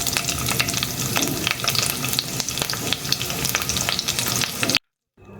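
Thick-cut onion slices frying in hot oil, with a loud, dense, crackling sizzle close up and quick stirring scrapes throughout, then a sudden cut to silence near the end.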